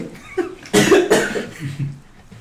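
A couple of sharp, close coughs in quick succession, harsh and throaty, with quieter breathing before and after.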